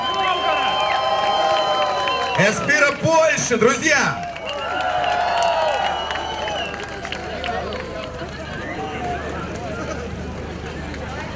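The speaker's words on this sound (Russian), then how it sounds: "Ваши аплодисменты, друзья." Audience applause at the Smolensk Starfall 2013 fireworks festival award ceremony, a brief burst of clapping and cheering rising under an announcer's amplified voice, which carries on afterward over the fading crowd.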